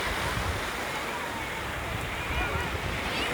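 Sea waves at Bakkhali beach, where crowds bathe, make a continuous close roar of surf mixed with blustery wind noise on the microphone.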